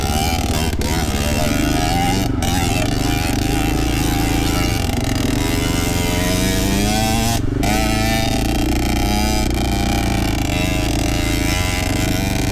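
A two-stroke dirt bike engine runs loud and close throughout, a steady buzzing drone with rising and falling revs and a couple of brief dropouts.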